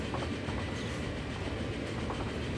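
Train running in the Transport Fever game: a steady, dense rolling rumble of rail cars with faint clickety-clack, continuous and close throughout.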